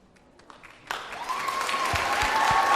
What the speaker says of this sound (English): let's give a round of applause for all those people who were in that